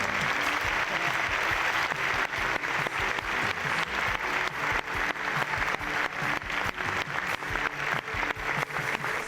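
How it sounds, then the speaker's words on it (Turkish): Hall audience at the Adana Golden Boll Film Festival award ceremony applauds actor Kadir İnanır's acceptance speech, a loud, sustained wave of many hands that settles into a fairly steady clapping rhythm throughout. "Usta oyuncu Kadir İnanır yaptığı ödül konuşmasıyla salondan büyük alkış topladı"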